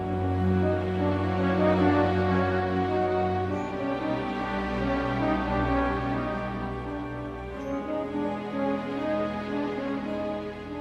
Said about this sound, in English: In Rhapsody in Blue, we have this inner voice movement that sounds like this.